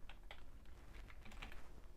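Fingers tapping a computer keyboard to type localhost, a short, quiet run of irregular key clicks up close with no talking.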